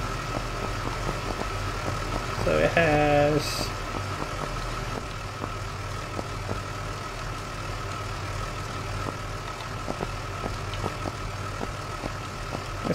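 A fire engine truck idles in a firefighting video game, a steady low engine rumble throughout with a brief tonal mechanical whine partway in and a few words spoken.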